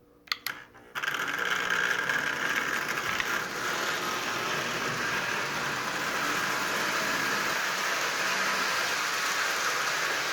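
A Lionel 8200 model train runs under control of a light dimmer, with a couple of sharp clicks followed by a steady, even mechanical whir from the motor that holds at moderate loudness.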